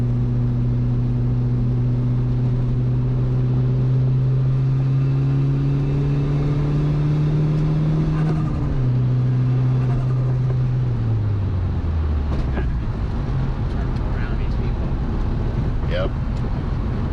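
Turbocharged DSM car engine, run on a turbo tuned toward 25 PSI, holds a steady loud drone that climbs in pitch, drops sharply around the shift, then rises again, with wind buffeting and faint voices beneath.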